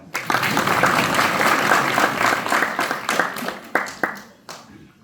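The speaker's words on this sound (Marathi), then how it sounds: "अभंग म्हटला, टाळ्या वाजवा." A crowd at a devotional satsang gathering claps loudly and continuously after an abhang song. The clapping is dense and close, then tapers to scattered claps and fades near the end.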